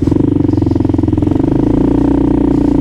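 A Kawasaki KLR650 motorcycle engine idles and revs nearby in snow, its exhaust thumping in a rapid, steady pulse, loud and up close.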